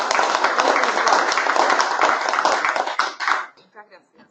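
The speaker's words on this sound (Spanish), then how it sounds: "Así que aplausos." Lively applause from a seated audience at a livestock talk, thick, even clapping that holds steady for about three seconds, then thins out to a few scattered claps and fades away.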